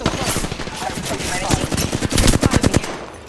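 Rapid automatic gunfire from Apex Legends, a dense, loud, near stream of shots that speeds into a tight rhythmic burst toward the end, with faint game noise beneath.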